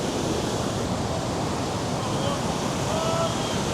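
Ocean surf rolls in at Ipanema Beach in Rio de Janeiro, a steady broadband wash of breaking waves with a constant, moderately loud roar.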